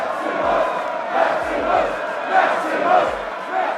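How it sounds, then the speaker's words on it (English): A large arena crowd in a Roman gladiator fight roars and cheers in swelling waves, with deep booming thuds underneath, loud and sustained throughout. "the crowd, instead of booing, erupted into cheers"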